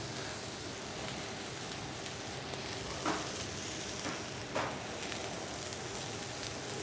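Steady, dense sizzling and crackling of meat skewers frying in hot oil, continuous throughout with a couple of faint clinks.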